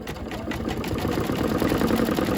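A home embroidery machine stitches out a turkey mug rug, its needle whirring in a fast, steady mechanical rhythm close by, with no talk over it.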